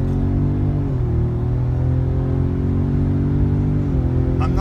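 A 2017 Ford Raptor with a ported turbo and pedal and boost upgrades accelerates hard on an early-morning road, its engine droning loudly and steadily from inside the cab, with the pitch dipping at each gear change.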